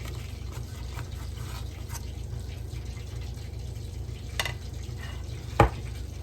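Dry fish fillets frying in a pan for breakfast give a steady, close sizzle, with a sharp clink near the end.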